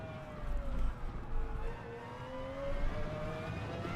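Euro NASCAR V8 race car engine revving steadily with rising and falling pitch, a continuous throaty drone heard from inside or near the car over a low rumble, with no voices.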